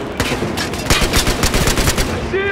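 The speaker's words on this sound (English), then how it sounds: "I hear gunshots" Rapid bursts of machine gun fire in Battlefield Hardline crackle in quick succession, loud and close, ending with a brief electronic chirp.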